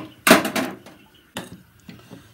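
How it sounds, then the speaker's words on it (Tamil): A heavy stone dosa griddle is set down on a kitchen stove with one loud clattering knock. Two lighter knocks of metal and stone follow, close by with no one talking. "நான் கல் வச்சுக்கிறேன்"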